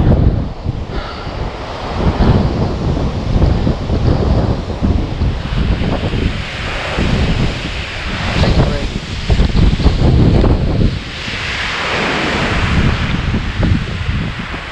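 Violent wind gusts above 70 mph batter the microphone on Guadalupe Peak, the highest point in Texas, a loud, continuous roaring rumble that surges and eases in waves throughout.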